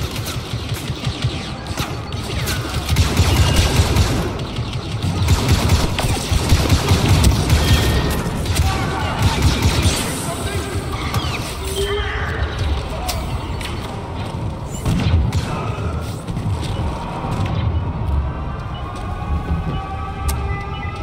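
Dense bursts of blaster gunfire and explosions from a Star Wars Battlefront II story-mode battle, loud and continuous with booming impacts and crashes, occasional whines, under a busy, chaotic soundscape.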